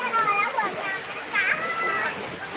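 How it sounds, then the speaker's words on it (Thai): Kids cool off playing with a water gun, its spray and splashing water rising in bursts close by while children's voices chatter and shout over it. "เอาปืนฉีดน้ำยิงมาเลย"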